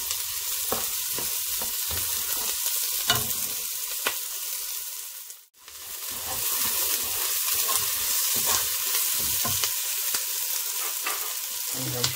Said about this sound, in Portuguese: vamos fritar até ficar douradinho